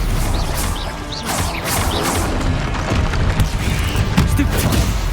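Spell impacts from a Stupefy cast in Hogwarts Legacy, a dense run of magical blasts, crashes and bursts layered over continuous game music and effects, loud and steady throughout.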